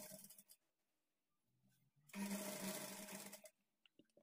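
A sewing machine stitches a high-neck blouse in one short, close burst of fast, even stitching lasting about a second and a half between quiet pauses.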